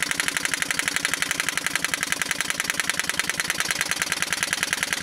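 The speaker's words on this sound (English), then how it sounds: "So that's the old Evinrude. 3 horse. Handitwin, I'd say that's idling pretty slow." A 1940 Evinrude Handitwin 3 hp outboard motor idles slowly and steadily, its rapid even firing pulses loud and close with a rattly, knocking character and no talk over it.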